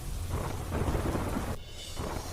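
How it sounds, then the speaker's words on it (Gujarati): Heavy monsoon rain pours down in a dense, steady roar with no voices, continuous throughout. "હાઈવે પર ખાબક્યો ધોધમાર વરસાદ"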